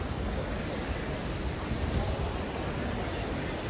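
Floodwater flows steadily through flooded streets of Surat, a continuous broadband rush of water at even loudness with no talk, close to the recorder.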